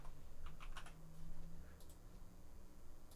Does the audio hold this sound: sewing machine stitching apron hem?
no